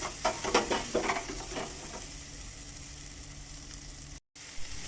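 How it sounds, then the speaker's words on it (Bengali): Fried potatoes and spices are sautéed in a pan, giving a soft sizzle with a few scraping stirs early on, then a quieter steady frying hiss. "আলুগুলো দিয়ে ভালো করে কষিয়ে নেব মশলাগুলোকে।"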